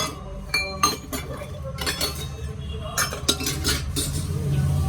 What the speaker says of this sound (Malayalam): ഇത് നന്നായിട്ട് ഇളക്കി യോജിപ്പിക്കാം.